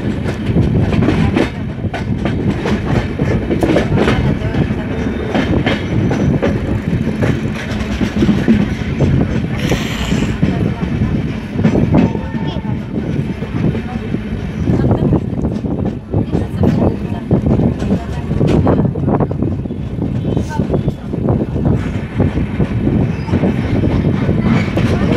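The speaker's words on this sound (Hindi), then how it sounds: "Haridwar super fast express arriving at Roorkee" The Haridwar Superfast Express rolls into Roorkee Junction, a loud, close, continuous rumble of wheels clattering over rail joints with occasional squeals, and voices talk throughout.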